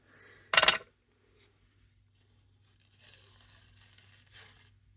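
Paper torn apart by hand during a papercraft project: one sharp, loud rip lasting about a quarter second near the start, then quiet, then faint soft rustling and crinkling of paper toward the end.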